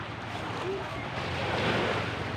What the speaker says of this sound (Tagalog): Dito na naman po ako dito ako ngayon sa ano, sa tabing dagat.